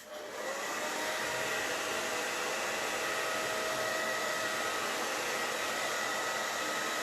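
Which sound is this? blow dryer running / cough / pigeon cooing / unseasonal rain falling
blow dryer running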